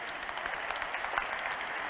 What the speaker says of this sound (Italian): Dai un applauso a tutti noi allora